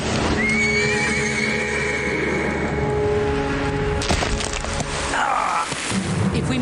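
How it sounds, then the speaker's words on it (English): A horse in Metal Gear Solid 3 lets out a loud whinny followed by heavy hoof stomps and cracking impacts, close and prominent over a background game score. "Un pisotón del caballo"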